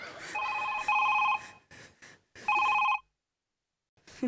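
A telephone rings in a Marathi stage comedy sketch, sounding as two bright, loud bursts of electronic trilling separated by a short pause, followed by silence and a brief noise at the end.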